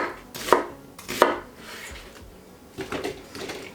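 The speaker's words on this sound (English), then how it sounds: "I'm going to do the onions, I'm going to do the tomatoes, just roughly chop them" Onions and tomatoes roughly chopped on a board with a knife, giving a few loud, well-spaced chops and a couple of softer ones, close by with no talk.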